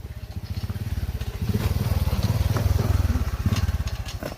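A motorcycle engine putters close by with a rapid, throbbing rhythm, swelling louder in the middle as it passes, then easing back.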